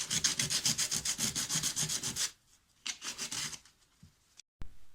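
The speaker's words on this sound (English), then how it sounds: "There's no other way than hand sanding." Rhythmic hand sanding on wood, fast scratchy back-and-forth rubbing strokes, close and steady, then a pause and a shorter burst of strokes.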